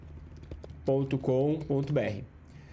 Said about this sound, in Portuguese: Vou entrar no Google e vou digitar g1.com.br.